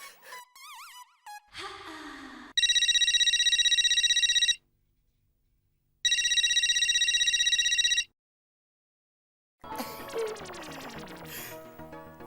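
A phone rings in repeated bursts of a bright electronic ringtone, loud and close, with short silent gaps between bursts and other tonal electronic sounds around them, heard alone without talk.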